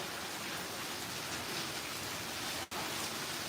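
Rain pours down steadily in a dense, even hiss close by, with one brief dropout near the end and no voices.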